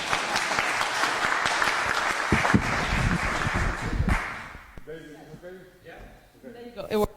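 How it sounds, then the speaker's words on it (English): An audience at an international scientific workshop on tree-parasite genetics gives a warm round of clapping for about four seconds, which fades as a presenter begins talking. "Can you give him a round of applause?"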